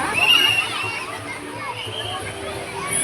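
Children shout and splash in a wave pool at the GRS water park, a busy, continuous wash of young voices and moving water at steady volume throughout.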